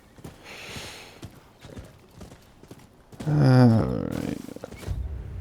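A horse's hooves clip-clop in the video game Rise of the Ronin, a run of short close knocks followed by a louder, tonal, whinny-like burst and continued movement.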